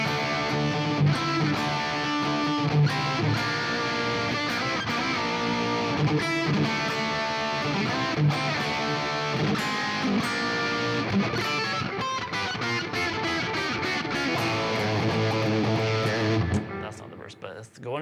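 Distorted electric guitar playing the verse riff of a song, dense and loud with crisp rhythmic chops and sustained chords over a backing track, running continuously before cutting off near the end.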